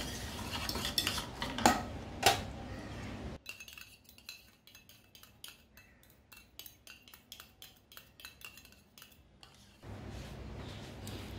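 Milk, jaggery and oil being stirred in a bowl for a wheat brownie, with a rapid run of close, rhythmic utensil clinks and scrapes against the bowl and louder clatters at the start.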